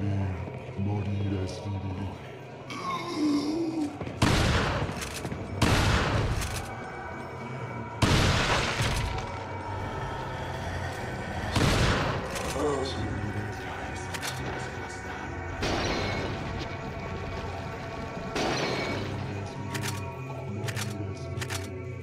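Shotgun blasts in Resident Evil 4 on GameCube, set in a castle: several loud, sharp booms spaced a few seconds apart over droning game ambience, with someone talking between the shots.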